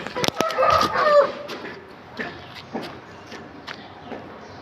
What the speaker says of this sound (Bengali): একটু অ্যাগ্রেসিভ টাইপের মোরগ